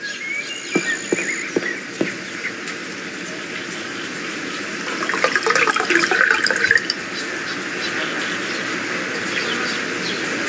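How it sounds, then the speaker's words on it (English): Water pours into a glass in The Black Mirror, a gurgling, bubbling fill that swells midway and then stops, after a few light clicks, with a steady ambient hum underneath. "I'll fill it with water."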